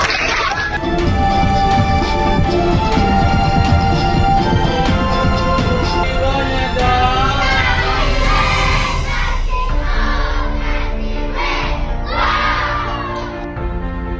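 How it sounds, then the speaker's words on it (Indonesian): At a village youth competition event, an audience of children cheers and shouts loudly in a dense, continuous roar that swells and fades in bursts. "Tepuk tangan."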